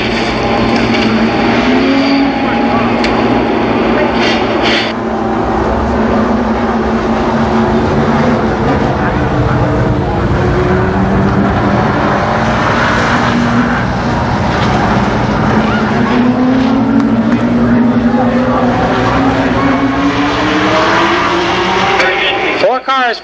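Race cars at Columbus Motor Speedway lining up off the fourth turn, engines droning and sweeping upward in pitch as they pass, loud and continuous beneath an announcer's voice.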